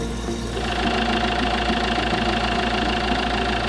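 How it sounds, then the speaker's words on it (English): An Iveco Daily campervan's diesel engine runs at a steady idle nearby during a coolant change, with a low, continuous knocking rumble and constant vibration throughout. "and then I'll run the engine again."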